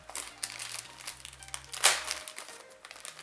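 Plastic packaging is crinkled and torn open by hand during an unboxing, a run of close, soft rustles and crackles with one sharper rip near the middle.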